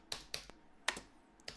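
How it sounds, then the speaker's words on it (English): Several sharp, clicky taps on the space bar of a wireless computer keyboard, about five isolated presses in an uneven rhythm, close and fairly quiet with no talking. "it's a wireless keyboard, but it's just hitting the space bar"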